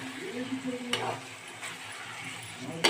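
Food fries in an uncovered pan while being stirred, with a soft background sizzle, a few sharp clinks and scrapes of a utensil against the pan, and faint voices or tones in the background.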